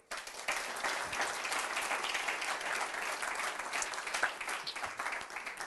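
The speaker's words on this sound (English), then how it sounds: "from the whole room we give you a big applause here" A room full of people in a parliament building applauds, dense sustained clapping that starts abruptly and continues evenly throughout.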